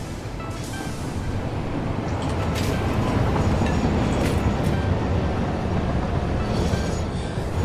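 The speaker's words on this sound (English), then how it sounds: "Here's the train we're looking for." A video game train rolls in with a steady, loud, broadband rumble that holds for several seconds, with faint rail clatter and no voices over it.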